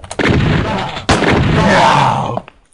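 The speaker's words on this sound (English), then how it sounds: "the shotgun will basically kill these guys in 1 shot, I think" Two loud, booming shotgun blasts in the Infiltrator Beta Demo game, each a sharp crack followed by a long rumbling decay, the second about a second after the first.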